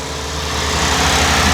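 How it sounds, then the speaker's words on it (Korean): A used car's engine idles right after starting, a loud, steady low rumble with even vibration close to the engine bay, no voices over it. "시동이 걸렸고요. 엔진 소리가"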